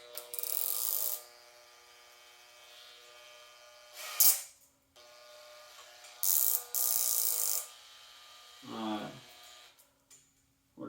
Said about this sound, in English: Works great if you got a power drill.